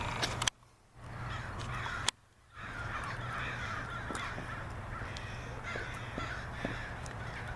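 Several crows cawing outdoors, harsh repeated calls scattered across a steady background hum, broken by a few sharp clicks and brief dropouts, with no talking.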